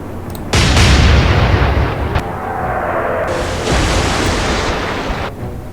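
Naval gunfire from warships in the game Atlantic Fleet: a loud broadband blast opens a heavy, sustained rumble, with a second swell of booming roar midway and no talking.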